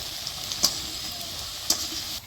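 Cabbage pakoras fry in oil with a soft, steady sizzle and bubbling hiss, broken by two brief sharp clicks, close and fairly quiet.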